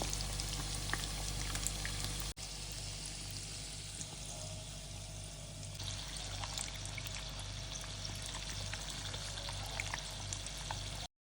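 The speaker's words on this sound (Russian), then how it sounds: "Жарятся во фритюре." Pirozhki deep-frying in hot oil give a steady, close bubbling and sizzling hiss that runs unbroken throughout, with a faint low hum beneath.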